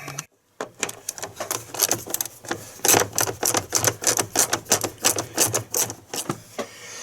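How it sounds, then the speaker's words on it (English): An 8mm socket on a ratchet loosens the headlight screws on a GMC Sierra or Chevrolet Silverado, giving a quick, close run of sharp clicking ratchet strokes after a brief silence. "And I'm going to use an 8mm socket."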